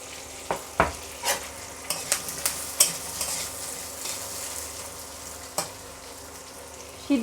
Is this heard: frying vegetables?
yes